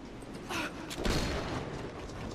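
An M1100 shotgun firing slugs in a video game, two heavy booming shots about half a second apart, each with a short rumbling tail.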